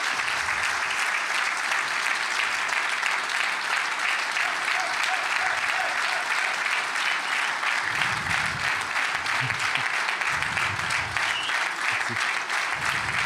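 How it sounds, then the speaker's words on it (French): Audience applause at a Cercle de Wallonie event: dense, loud, continuous clapping from a crowd that holds steady throughout, with some voices faintly underneath. "c'est qu'on remercie et qu'on applaudit fortement et chaleureusement notre ami Walter."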